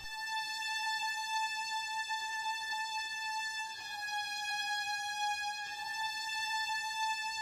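Synthesized string lead patch from an FL Studio remake, a thin sustained bowed-style tone holding a steady high note, quiet and alone with no percussion underneath.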